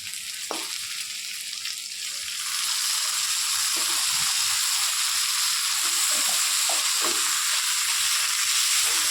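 Desi chicken pieces hitting hot oil and frying: a loud, steady sizzle that swells after a couple of seconds, with scattered stirring clicks and scrapes throughout.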